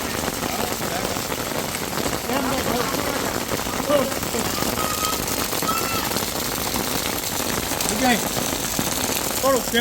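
Steady rain pours down outdoors in a continuous dense patter on surfaces, while people talk nearby under umbrellas.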